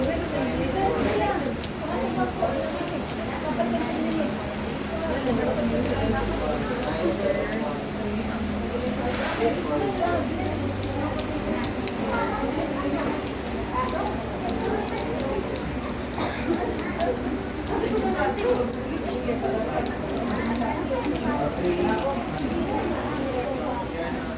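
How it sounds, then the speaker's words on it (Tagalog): Heavy rain pours steadily at a tourist spot in Anda, Bohol, Philippines, with gusty wind and faint voices talking underneath the constant wash of noise. "talagang lumalakas ang ulan at mahangin"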